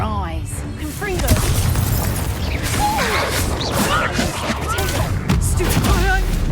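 A fire-based explosion spell is cast in the video game Hogwarts Legacy during a chaotic fight, with crashing blasts and whooshing effects spread through the clip over busy game noise and voices.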